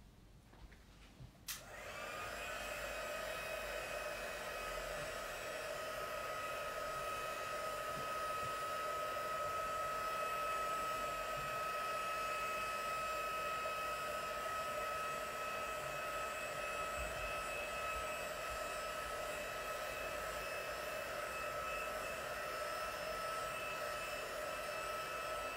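A hair dryer switches on and blows a steady, loud, unbroken whoosh with a constant whine as it dries a mixed media craft box scene, running alone without talk.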